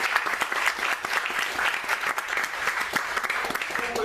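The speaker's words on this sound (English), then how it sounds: "May we have another round of applause for Lorcan Otway" Steady, dense applause from a theatre audience fills the whole stretch, many hands clapping at once with no pause.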